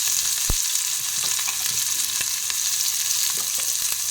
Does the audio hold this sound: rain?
no